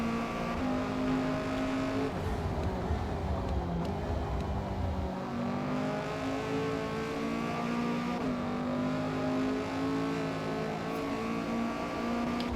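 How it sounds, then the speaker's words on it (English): A Lexus LFA supercar in a multiclass race approaches and passes, its high engine note climbing and sweeping through a long, steady drone of other racing cars. "That's an LFA. Listen to it. Hear it coming."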